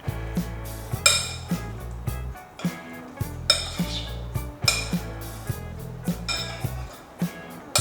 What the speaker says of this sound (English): we continue with olive oil and we're going to mix until all the